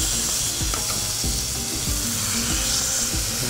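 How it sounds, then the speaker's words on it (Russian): Beef fillet searing in a frying pan while a restaurant-style dish is cooked at home: a loud, steady sizzle of frying with scraping stir sounds mixed in, close up and continuous. "Обжариваем с каждой стороны,"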